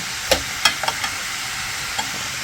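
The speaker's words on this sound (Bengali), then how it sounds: "চুলাটা জ্বালাই দিয়ে মিক্স করতে আসি" Cabbage being stirred as it fries in a pan on a lit stove, a steady sizzle broken by a few sharp scraping clicks of the spoon against the pan, close and moderately loud.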